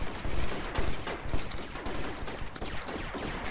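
Rapid gunfire bursts in the virtual-reality game Rec Room, dense and continuous with repeated shots stacking over each other, loud and close throughout a team firefight.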